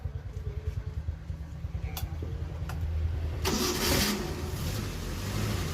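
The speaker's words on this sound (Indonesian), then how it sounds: "Oke nih untuk suara mesinnya ya" The engine of a Carry pickup converted from a minibus cranks and starts partway through, then settles into a steady mid-pitched running note at close range, with no talking.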